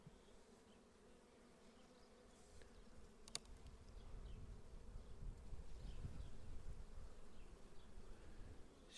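Steady, dense buzzing of many honey bees on a hive frame close by, a continuous droning hum that swells slightly louder toward the end, with no voices.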